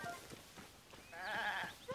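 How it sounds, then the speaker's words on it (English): White goats bleat in the video game Tears of the Kingdom, one quiet wavering bleat rising in the middle over soft background ambience, with a short call near the end. "Whoa, those are my white goats!"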